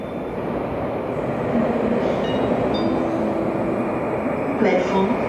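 A train pulls into a platform at Berlin Hauptbahnhof, with a steady, loud rolling rumble and faint squeals and tonal whines from the wheels, under station announcements and voices.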